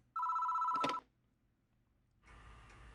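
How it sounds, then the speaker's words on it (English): A phone rings in the Spirit Hunter: NG video game: one short, bright electronic ring burst, then quiet, then a softer noisy game sound. "This doesn't seem to want to stop ringing, so I reach for the phone."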